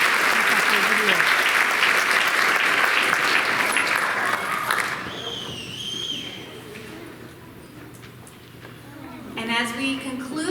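Audience applause at the People's Choice Awards 2025 builds loud and dense for about five seconds, then fades into scattered clapping and crowd murmur as a voice starts speaking near the end.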